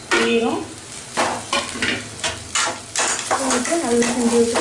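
Curry leaves and coriander leaves fry for street-style kothu parotta while a metal utensil stirs them, making rhythmic, close scraping strokes against the pan over a continuous sizzle.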